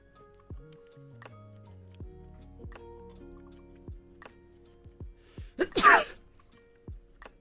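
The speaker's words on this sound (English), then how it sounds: "Oh, I'm gonna sneeze." A single loud, close sneeze bursts out near the end, over a steady game soundscape with rhythmic hoof-like taps and low tones; no words are spoken.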